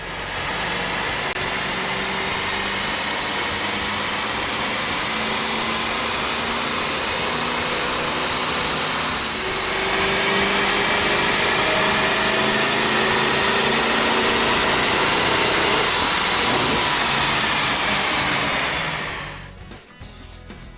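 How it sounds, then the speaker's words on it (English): A 2001-2004 GMC Yukon Denali 6.0L V8 fitted with a K&N air intake runs on a dyno, a steady loud engine drone that climbs in intensity midway, holds, then cuts off near the end. "With the air intake installed, we ran the vehicle on the dyno to test the sound comparison versus the stock intake."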